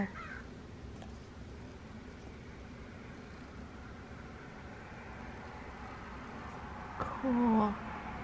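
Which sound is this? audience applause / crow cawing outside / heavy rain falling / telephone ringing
crow cawing outside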